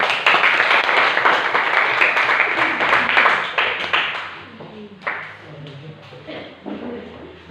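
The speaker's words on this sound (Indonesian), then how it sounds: "Oke, tepuk tangan dulu." Classroom students clap for a presenting student group, a dense burst of applause that is loud at first, then thins into scattered individual claps before fading out.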